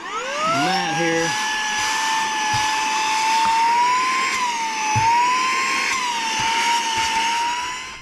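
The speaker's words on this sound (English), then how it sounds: "Here's one of the air blowing accessories" A Saker 3-in-1 vacuum cleaner with its air-blowing accessory fitted runs with a steady, loud motor whine that rises at start-up and holds a high pitch, its tone wavering slightly throughout.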